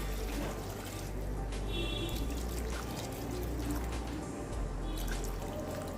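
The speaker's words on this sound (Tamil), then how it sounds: "2 கப் பாஸ்மதி அரிசிக்கு 3 கப் அளவுக்கு தண்ணி சேர்க்குறேன்." Steady stream of water pouring into a pressure cooker for vegetable biryani, a continuous splashing trickle that runs throughout at moderate volume.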